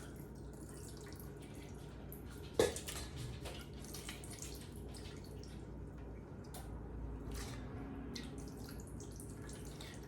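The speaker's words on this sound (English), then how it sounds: "we're going to drain these peaches" Canned peach juice drained by hand into a bowl, a faint trickle and patter of liquid with one sharper splash early on, quiet and close in a kitchen.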